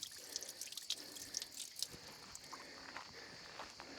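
A tap in a remote mountain spot in Cyprus runs with non-potable water, a faint steady trickle and splatter with scattered drips.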